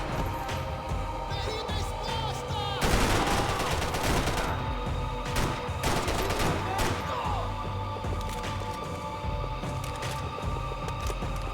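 Gunfire from the video game Max Payne 3 rattles out in bursts of rapid shots with a loud stretch of sustained firing, alongside background game sounds and occasional talk.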